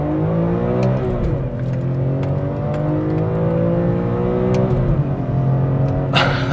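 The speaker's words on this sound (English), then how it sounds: "It makes such an amazing noise. This S54 and its raspiness is unmatched" A 2003 BMW M3 with the S54 engine revs and accelerates in a continuous raspy pull heard from close by, the pitch climbing, dipping at a shift, then climbing again, with no talking over it.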